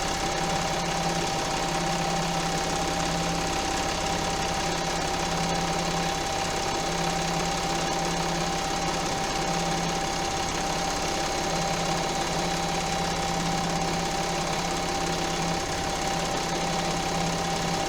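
A sewing machine stipples a quilt around a stitched name, running as a steady, continuous mechanical hum with a fine rattle and no pauses throughout.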